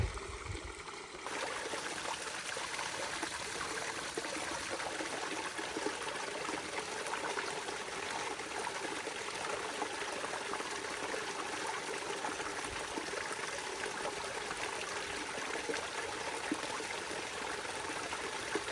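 A natural spring on a forested bikepacking loop in the Pennsylvania Grand Canyon area runs steadily, a close, continuous trickling stream of water without pause and with no voices over it.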